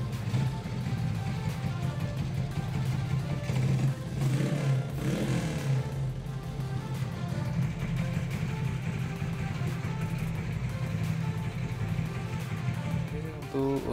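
A 2007 Honda Supra Fit motorcycle with a non-original exhaust runs close by. Its engine holds a steady mid-pitched drone with a brief rev partway through.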